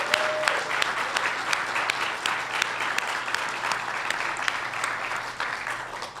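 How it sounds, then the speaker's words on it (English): Sustained applause from an awards-ceremony audience honoring winners, a dense steady clatter of many hands filling the whole stretch without letup. "let's just one more round of applause for all of our award winners tonight"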